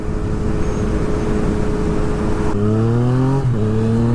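A Yamaha FZ09 (MT-09) motorcycle with a flashed ECU accelerates hard with clutchless shifts: steady engine hum, then a sharp rising rev, a quick upshift dip and another climb in pitch, close and loud over wind noise.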